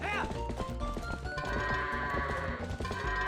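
Goats bleat in Zelda: Twilight Princess on the Wii while being herded through a gate, the calls rising over a steady, dense layer of game music.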